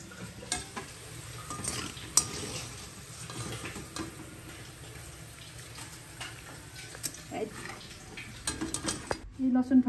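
Chillies stirred in hot oil left from frying garlic, a steady low sizzle with scraping spoon strokes and light clinks against the pan, close and continuous, a few sharper knocks near the end.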